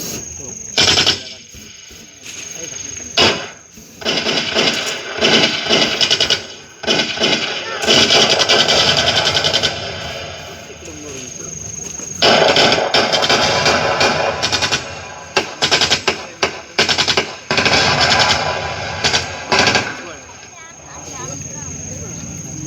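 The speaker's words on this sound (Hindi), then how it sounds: "मध्यरात्री फायरिंग सुरू झालं" Loud, dense bursts of gunfire sound effects play at a live tableau of a surgical strike during a Ganesh festival, with rapid machine-gun rattles and heavy booms repeating in clusters. Voices mix in amid the din.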